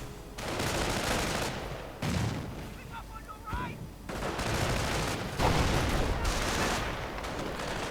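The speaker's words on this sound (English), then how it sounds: "Rifleman moving up, getting sniped." Gunfire and sniper shots from a World War II style real-time strategy game, bursts of rifle and machine-gun fire crackling in waves with short pauses between, fairly loud and continuous.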